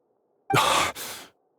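A single weak, breathy sigh from a character in the video game Genshin Impact, close and alone against near silence, lasting under a second with a brief dip midway.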